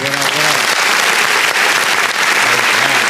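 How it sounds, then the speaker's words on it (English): Studio audience applause greets podcast guest Dray South, a steady dense wash of close clapping lasting throughout, with voices calling out over it at the start and end. "Round of applause for my boy Dray South."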